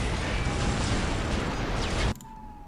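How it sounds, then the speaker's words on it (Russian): An acid bomb drops in the strategy game Dawn of War, producing a dense, loud sizzling and rumbling burst that holds steady for about two seconds and then cuts off sharply. "Вражеский талон сбрасывает на вас какую-то кислотную бомбу."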